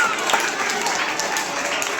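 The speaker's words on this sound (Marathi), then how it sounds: "सर्वांनी टाळ्या वाजवून मॅडमांचा सत्कार करायचा आहे." Audience claps together at a school retirement ceremony honouring a teacher, a brisk, continuous wash of applause, loud and even throughout.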